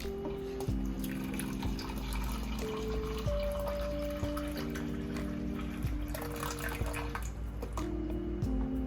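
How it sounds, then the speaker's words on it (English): Water pours steadily into a teapot of loose leaf tea, a continuous liquid gurgle whose pitch shifts as it fills, with faint drips and clinks. "Just adding the water for my second steeping of this tea."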